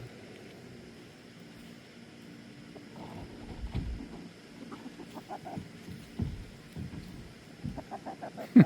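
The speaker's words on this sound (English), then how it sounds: "I wasn't actually bird watching when I ran into these chickens." Chickens cluck intermittently outdoors over a soft steady background hum, with irregular short calls that grow a little louder near the end.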